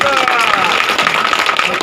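Audience applause at a village panchayat gathering in Amberi, where the sarpanch and ward members take their oath, a dense steady wash of clapping filling the whole moment at close range.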